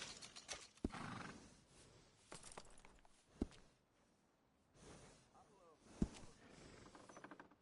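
A horse is groomed in Red Dead Redemption 2, with soft brushing, a few snorts and hoof clops spaced through a quiet scene while someone talks.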